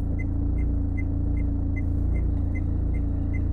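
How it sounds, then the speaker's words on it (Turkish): Low, steady engine rumble of a Renault Symbol shuddering at the clutch engagement point, a rhythmic vibration, close and continuous, no voices. "Araba şu an zıngır zıngır titriyor kavrama noktasında."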